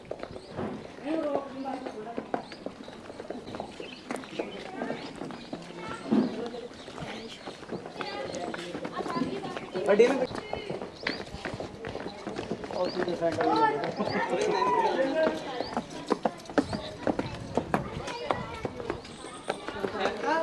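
A ridden mare's hooves clop in a steady trotting rhythm along a road at a stud farm while people talk loudly nearby over the moving hoofbeats.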